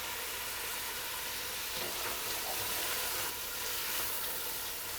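Tomato, celery and vegetables sauté together in a soup pot for Zuppa Toscana, a continuous broad hiss of sizzling with faint stirring, steady and close.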